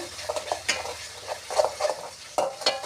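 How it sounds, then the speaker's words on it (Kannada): Tomato chutney seasoned with chili and salt bubbles in a pan while a spoon stirs it, making repeated scraping strokes and soft clanks over a low, steady simmering sizzle, close and without speech. "1 ನಿಮಿಷ ಚೆನ್ನಾಗಿ ಕುದಿಸಿರಿ ಇದನ್ನು."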